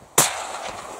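A single rifle shot fired at an Alaska brown bear at midnight cracks out sharp and loud, then rings off into a long fading echo across open ground.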